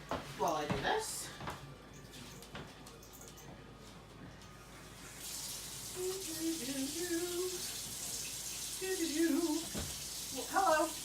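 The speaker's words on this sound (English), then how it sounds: "fill it up to this line with hot water this time" Hot water runs from a household tap into a container. A steady rushing flow starts midway and continues under a person talking nearby.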